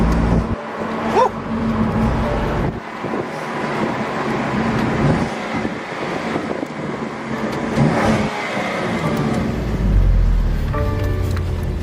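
A BMW M2 Competition drives along, its engine a steady loud rumble with road and wind noise throughout, rising and easing slightly as it moves, without speech.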